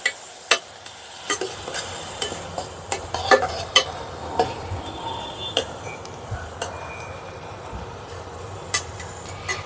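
Tomatoes and fish sautéed in a pan for fish gravy, with a steady sizzle and repeated sharp scrapes and taps of a spoon stirring against the pan, close and clear with no talking.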